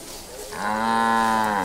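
A cow on a farm in the video game Far Cry 5 gives a single long, clear moo that rises after a short pause and holds steady, close and loud.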